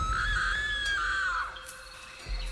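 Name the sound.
woman screaming loudly, horror story sound effect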